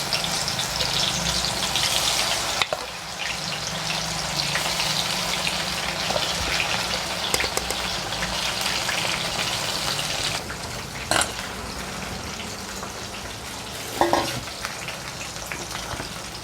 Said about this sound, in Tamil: எண்ணெய் காய வச்சதுக்கப்புறம் ஊற வச்சுருந்த மீல் மேக்கரை பொரிச்சுக்கலாம்